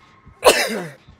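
A single close, sharp sneeze from a person during a livestream, one abrupt burst that trails off quickly against near silence.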